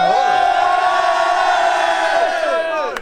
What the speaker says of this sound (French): faites du bruit pour lui